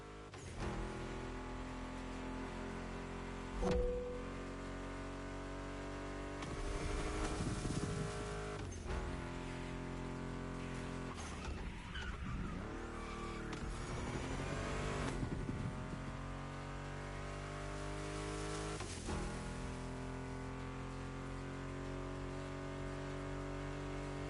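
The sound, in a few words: Ford Mustang GT muscle car engine in The Crew Motorfest video game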